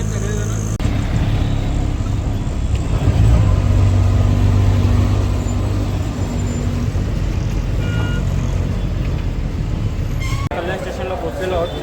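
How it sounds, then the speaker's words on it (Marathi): An auto rickshaw ride toward Kalyan station: a steady, close engine drone and road rumble run unbroken for the whole stretch, with a low humming tone and no pauses. "आम्ही आता पहिलाच प्रवास आमचा रिक्षाने झालेला आहे"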